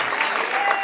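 A brief burst of dense clapping from a church congregation during a sermon, loud and continuous across the moment.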